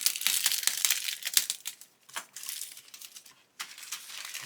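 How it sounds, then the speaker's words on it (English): A knife cuts open plastic bags holding sprues from an Airfix 1/24 Spitfire Mk.IXc model kit, producing close, busy crinkling and rustling of thin plastic in bursts with a brief pause, no voices. "So we'll get these bags cut open."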